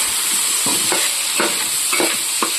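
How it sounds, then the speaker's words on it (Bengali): Onion and potato fry in a wok with a loud, dense, steady sizzle up close, broken by a series of quick scraping strokes as a spatula stirs them. "তো এদিকে কড়াই আমি পেঁয়াজ আলুটা দিয়ে দিয়েছি।"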